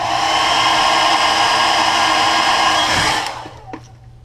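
A heat gun runs steadily to set paint on a crankbait lure in a craw pattern, a loud continuous blowing whir that cuts off near the end and leaves faint room noise.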